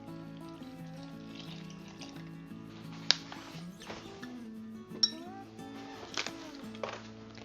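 Pudding mix and milk being stirred in a bowl: soft continuous swirling with occasional sharp clinks of a utensil against the bowl, fairly close and quiet, with faint background hum.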